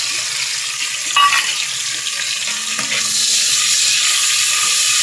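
Browned onions sizzle in a pan as bay leaf and ginger-garlic paste go in for a beef and potato curry, a steady hissing fry with a few stirring clinks.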